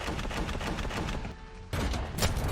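Rapid gunfire in the Roblox War Tycoon video game, a dense burst of close shots, a brief pause, then another volley resuming, sharp and loud.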